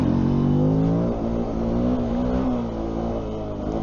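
A Benelli TNT 125 motorcycle revving up in first gear with a rising buzzy engine note, then a brief dip as it shifts into second and pulls on steadily, loud and close.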